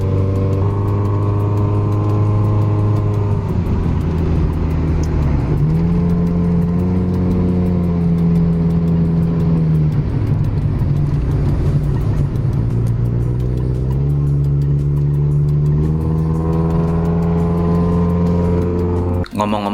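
A Hyundai Elantra fitted with a racing exhaust roars steadily as it accelerates along a rural road, a loud, close engine drone that rises and eases in pitch through repeated throttle pushes.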